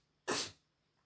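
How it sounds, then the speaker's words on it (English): A single sharp sneeze bursts out close by, a quick breathy explosion that fades within a fraction of a second into quiet. "I'm like holding back a sneeze."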